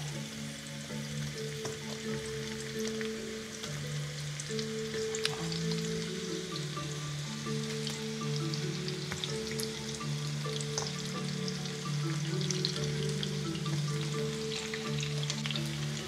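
Onions sizzle in a pan as the base for sweet and sour tilapia, a steady fry with faint crackles and a low hum running underneath the whole time, with no one talking.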